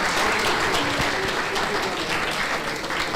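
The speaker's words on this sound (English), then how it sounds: "A very big round of applause for him." Hall audience at a valedictory ceremony clapping in a sustained round of applause, dense even clapping with a few sharper individual claps standing out, easing slightly near the end.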